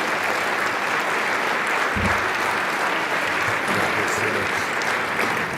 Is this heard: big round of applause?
yes